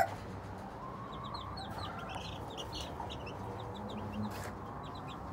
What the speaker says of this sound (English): I have the hens in there at the moment